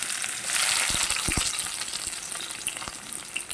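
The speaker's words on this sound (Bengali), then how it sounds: "তেলটা কিন্তু গরম হয়ে আসছে, কুচি করে রাখা পেঁয়াজ দিয়ে দিচ্ছি।" Chopped onions sizzle and fry in hot oil in a wok, a steady close crackle with a few sharper spits, no talk over it.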